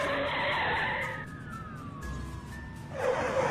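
A car swerves to avoid an oncoming bus, its tires letting out a long squealing screech that slides downward in pitch over a roaring engine, then a louder burst of noise breaks out at the end.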